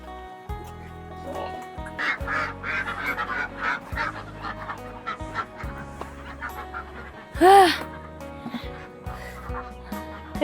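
A duck gives one loud, honking quack, with softer quacking and squawks scattered around it over a steady background of music.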